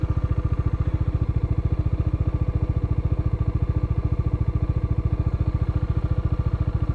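A motorcycle engine idles steadily and loudly close by, a fast, even thumping pulse that runs unbroken with no talk over it.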